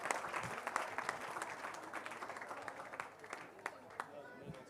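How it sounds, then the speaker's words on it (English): Audience applause at a cycle race prize-giving, the Nedbank Cycle Challenge: steady, fairly quiet clapping from a crowd, with a few sharper claps standing out and voices talking underneath. "One more round of applause,"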